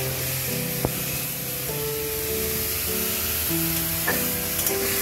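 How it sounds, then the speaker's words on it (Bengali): Snake gourd frying in a pan with potato and a cumin tempering, giving a steady, close sizzle and hiss that runs unbroken throughout, with faint tonal sounds in the background. "আলু জিরে ফোড়ন দিয়ে চিচিঙ্গেটা চাপিয়ে দিলাম"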